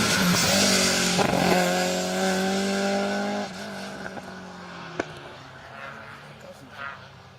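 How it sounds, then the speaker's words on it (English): A Mercedes 190 rally car drives through a special stage at Rally Wervik, its engine loud and rising with revs as it passes, then fading into the distance. Voices talk over it. "So slightly different car, it's a Mercedes 190."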